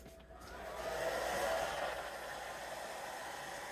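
A hair dryer blows onto painted strawberry rocks, a steady close whooshing hiss that starts quietly, swells within the first second and holds constant.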